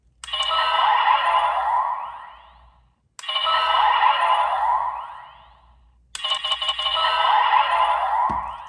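A Black Sparklense toy (Tiga Dark version) plays its warbling, bubbly synthetic error tone three times in a row, each burst rising then fading, with short gaps between.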